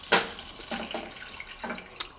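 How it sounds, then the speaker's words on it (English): Chicken broth poured into a pan starts with a sharp liquid splash and then settles into softer intermittent sloshing and trickling, close and moderately quiet, with no talking. "take our 1/2 cup of chicken broth and pour that in"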